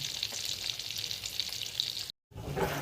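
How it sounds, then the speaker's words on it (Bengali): Bata fish frying in mustard oil: a steady, close, crackling sizzle that drops out briefly near the end before resuming. "এই যে বাটা মাছগুলো ভাজা হয়ে যাচ্ছে"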